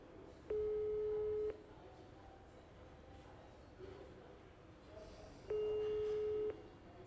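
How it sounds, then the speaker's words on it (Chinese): An unanswered call from a mobile phone: two long, even ringback tones, each about a second, separated by a quiet pause of several seconds over a faint background. "记者用自己的手机分别拨打李总和王总的电话，都无人接听。"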